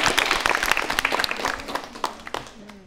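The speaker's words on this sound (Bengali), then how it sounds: "তার জন্য করতালি হয়ে যায়" A studio audience at a televised Bengali quiz show applauds a contestant, brisk clapping that starts strong then thins out and fades near the end.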